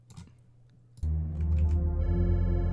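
A telephone rings in a horror game from a Lovecraft-themed game jam. After about a second of near quiet it starts abruptly and turns into a loud, steady electronic ring that grows slightly fuller toward the end. No one talks.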